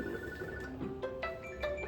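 A phone rings with a short series of bright melodic tones, fairly clear over a faint background.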